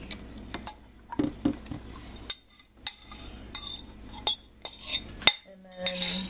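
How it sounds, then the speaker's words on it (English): Whole egg and two egg yolks mixed together in a bowl for pumpkin pie filling, with a utensil clinking and tapping against the dish in irregular bursts, close and moderately loud, with no talking. "take 1 egg and 2 egg yolks and mix them together"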